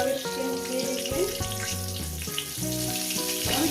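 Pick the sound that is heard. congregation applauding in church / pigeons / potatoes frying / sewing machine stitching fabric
potatoes frying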